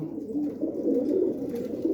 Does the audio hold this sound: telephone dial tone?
no